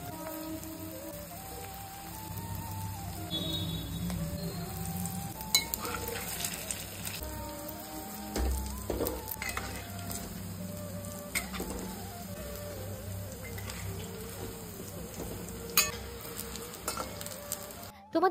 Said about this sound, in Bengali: এইবার আমরা এই গরম তেলে এগুলো ভেজে নেব